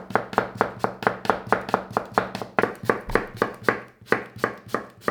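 Knife cutting apples into small slices on a cutting board, a fast steady series of close, crisp chops with no talk.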